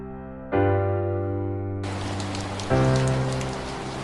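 Storm rain for a noir detective audio drama: a steady, loud wash of falling rain hisses in after a low droning musical tone and then continues unbroken.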